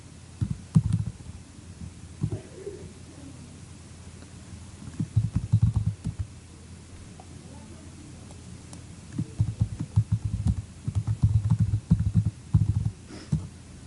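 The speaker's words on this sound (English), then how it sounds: "Assuming I can type the web address." A web address typed on a computer keyboard into a Chrome browser, heard as three separate spurts of soft, quick key clicks with quiet pauses between, no talking.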